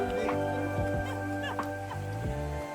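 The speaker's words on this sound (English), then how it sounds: "Hello, chicken." Chickens cluck in a steady chorus of fowl calls, several birds close by with repeated short clucks over a constant background hum.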